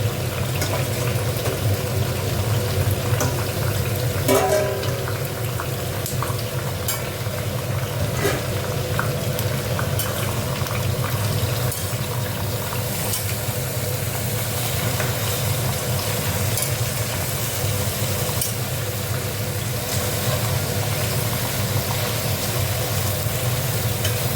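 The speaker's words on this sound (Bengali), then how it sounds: "মাছের মাথাটা দিয়ে দেবো এটা, আর মাছের তেলগুলো দিয়ে দেবো, দিয়ে একটু নাড়াচাড়া করবো" Fish head and fish oil frying in a pan with tomato, a steady loud sizzle with occasional scraping clinks as the pieces are stirred, continuous throughout.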